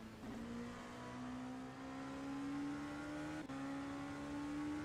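An LMP2 prototype race car at Mugello in a racing video game, its engine droning steadily and rising in pitch with a brief shift break, loud and continuous without voices.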